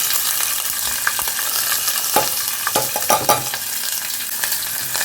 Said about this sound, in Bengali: তো চলো এবারে আমি কুকারটা বসিয়ে রান্নাটা শেষ করি।